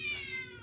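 A cat meows once, a short, close, fairly loud call with a bright harmonic tone that fades slightly toward the end, heard alone without speech.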